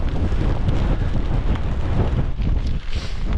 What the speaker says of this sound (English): this wind is horrendous